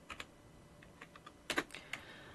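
Keys tapped on a computer keyboard while a web browser search is typed in, a sparse run of light clicks with a short denser burst midway, close and quiet with no talking.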